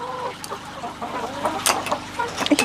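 Hens clucking nearby in short irregular bursts, some sharper squawks toward the end, with light rustling around them.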